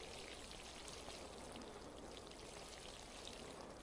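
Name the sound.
watering a plant in a video game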